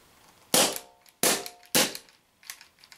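An Umarex TP50 compact pistol running on a small 8 gram CO2 canister fires three sharp, close pops in quick succession, then a couple of weaker, softer puffs as the gas runs out.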